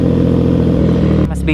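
A CFMOTO 675NK motorcycle fitted with a new muffler idles and revs close by in a deep, bassy throb, the engine note dropping sharply near the end as a voice briefly cuts in.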